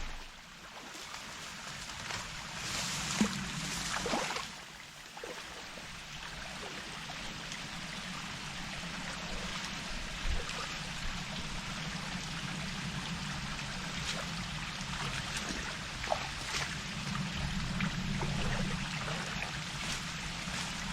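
Irrigation water flows into a rice field in a steady, moderately faint rushing trickle that continues throughout, with a few soft bumps and knocks nearby.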